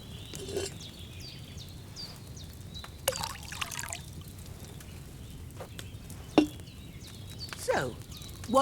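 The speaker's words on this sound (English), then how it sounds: "So, what did you pour in there? Wine, of course." Wine poured from a pitcher into a cauldron in the video game Kingdom Come Deliverance 2, heard as a faint, thin trickle with a few soft clinks over a quiet ambient background.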